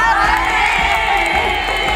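Young preschool children at an early-childhood education event in Bandung clapping and cheering in a group, a dense, loud wash of crowd noise and shouts filling the whole moment.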